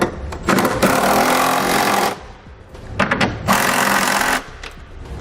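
A power tool drives home trailer hitch hardware on a 2019 Subaru Outback. It makes two loud, rattling bursts of about a second and a half each, separated by a short pause, close by and with no talking.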